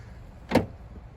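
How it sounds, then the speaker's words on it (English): A single brief clunk from the door of a 2022 Acura NSX being opened, standing out from quiet surroundings. "So I'm gonna go ahead and open the door here"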